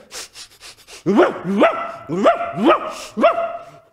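Dogs bark five times in a steady rhythm, close and loud, after a second of soft rustling, in a children's story of hunting dogs chasing a duckling.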